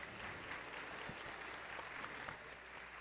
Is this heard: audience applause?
yes